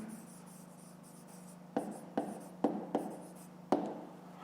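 A pen writes on paper during a fifth-grade maths exercise, the soft scratching broken by several sharp taps and quick strokes, close and quiet over a faint low hum, with no voices.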